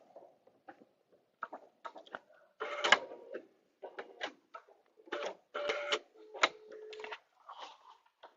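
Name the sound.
sewing machine stitching vinyl fabric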